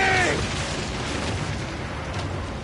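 Galley cannons fire a heavy boom at the start of a naval battle in Assassin's Creed Origins, followed by a sustained rumbling roar with crew shouting faintly in the background.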